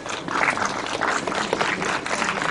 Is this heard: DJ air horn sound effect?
no